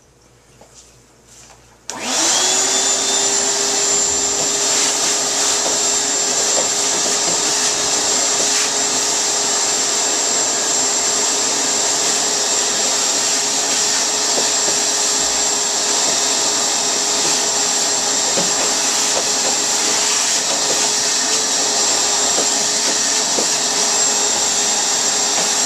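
A shop vacuum cleaning out a pet cage starts up after a couple of seconds and then roars continuously at high, steady volume with a whining motor tone, close by and alone.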